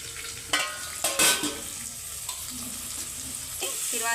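Vegetables for vegetable rice frying in a pan, giving a steady close sizzle broken by a few sharp clatters of stirring, with no one talking.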